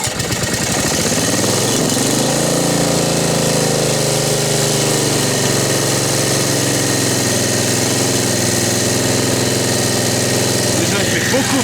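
A Honda HR-21 lawn mower with a GV150 engine runs steadily after restoration, a loud, close, continuous idle that shifts pitch slightly as it settles.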